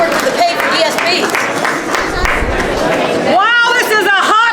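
A rally crowd at a disability services event claps and cheers in a noisy burst of applause, with chatter mixed in, before a speaker's voice comes up over the fading noise.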